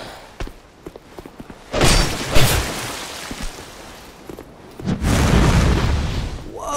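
Exploding corpses in Dark Souls II, where a few light taps and footsteps give way to two heavy, roaring fiery blasts, each a loud rumbling burst that fades out.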